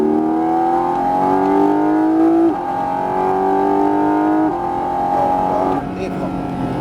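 A Porsche 718 GT4 RS accelerates hard out of a corner on a race circuit, its loud engine note climbing through the revs in repeated rising sweeps with quick drops at the gear changes, while an instructor talks over it.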